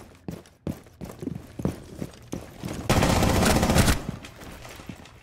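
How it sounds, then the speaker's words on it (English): Gunfire in the tactical shooter Rainbow Six Siege: scattered single shots and footsteps, then a dense, loud burst of sustained automatic fire lasting about a second, followed by a few more sporadic shots. "I hear you shooting."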